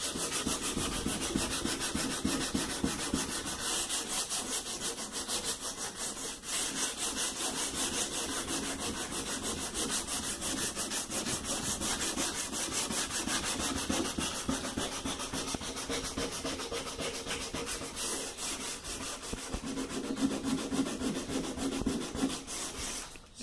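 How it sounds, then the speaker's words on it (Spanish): Continuous rhythmic rubbing and scraping of hand wet sanding with water on a family refrigerator during a door gasket replacement, close and steady, with quick back-and-forth strokes and no voices. "Acá vamos a lijar."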